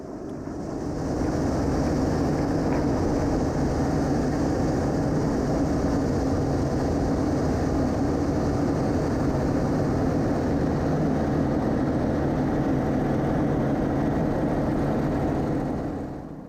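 A Yak-50 aerobatic aircraft's engine drones steadily through a practice flight, a loud, continuous propeller roar heard from the cockpit that stays even for the whole stretch, with no talk over it.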